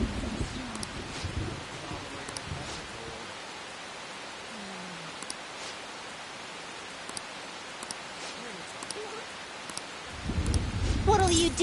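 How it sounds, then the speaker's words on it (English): Heavy rain in the video game Persona 5 Royal, a steady broadband hiss running through the whole stretch, with game voices and music cues over it near the start and end. "It's raining so hard."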